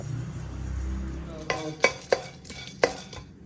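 Nuts and cardamom dry-roasting in a pan, a low rumbling scrape giving way to several sharp clinks and scraping strokes of a spoon against the metal, moderately close, with no voices.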